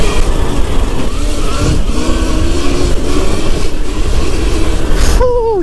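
A Surron Ultra Bee electric dirt bike accelerates on the road with a rising motor whine under heavy wind rush, close and loud, ending in a sharp high whine.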